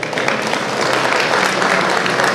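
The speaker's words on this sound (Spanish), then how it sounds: "Es un aplauso para ustedes." Brief, dense applause from an audience at a talk on mobile app development for Ubuntu Touch, steady and continuous from start to finish.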